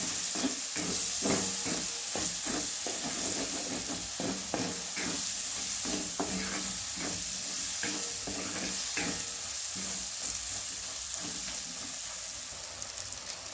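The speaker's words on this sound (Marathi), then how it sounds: "थोडीशी हळद मिक्स करून भाजून घ्या चांगला मसाला कांदा टोमॅटो" Onion, tomato and turmeric masala roasting in a pan, stirred steadily: a constant sizzle with repeated scraping strokes of the spoon running through the whole stretch, fairly close, with no talking.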